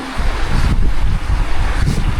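Strong wind buffets the microphone outdoors on a farm field, a loud continuous rumbling roar with gusty surges throughout.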